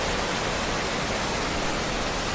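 Downpour of heavy rain and surging floodwater makes a constant, loud hiss and roar without pause or change, and nobody speaks.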